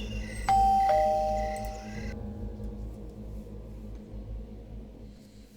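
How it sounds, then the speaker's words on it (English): A doorbell chimes two clear ding-dong tones in quick succession, ringing out and fading over a low rumbling background. "Oh, the doorbell."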